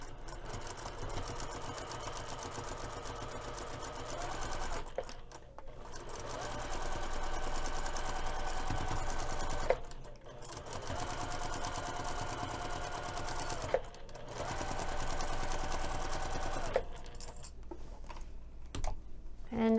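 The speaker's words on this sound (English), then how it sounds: "I'm going to be sewing with the main panel against the bed of my sewing machine" Sewing machine stitching a messenger bag seam with the main panel against the machine bed, a steady close rattling hum running in long stretches with brief stops between them.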